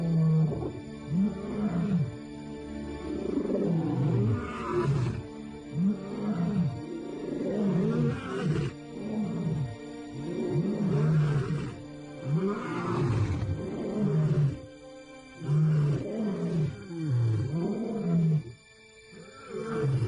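A male African lion in the wild gives a sequence of deep, rumbling roars and grunts, repeating in heavy rhythmic bursts across the whole stretch, close and powerful.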